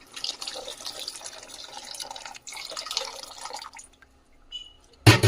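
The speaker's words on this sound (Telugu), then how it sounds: "ఇప్పుడైతే చింతపండు రసం అయితే వేసుకుందాము." Tamarind juice is poured into a pan of frying masala, a splashing, bubbling liquid pour that fades out, followed by a brief loud clatter at the end.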